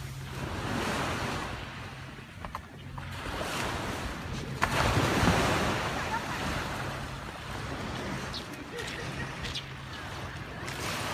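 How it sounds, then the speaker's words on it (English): Ocean waves washing onto the shore at Miyajima, Japan, a loud, steady surging wash with rising and falling swells, mixed with wind buffeting the microphone. "This is my first view of the ocean in Japan."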